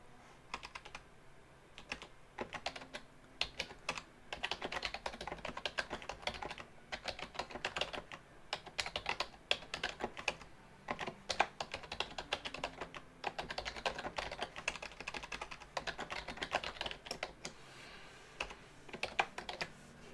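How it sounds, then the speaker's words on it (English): Rapid, steady keyboard typing fills the stretch, with dense clicking keystrokes coming in bursts and brief pauses, close and fairly clear. "if you're hearing my typing"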